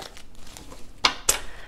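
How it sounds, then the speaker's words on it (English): Tarot cards being shuffled by hand give two quick, crisp papery riffling bursts a moment apart over a faint, quiet background, with no talking. "three more shuffles and we'll get started."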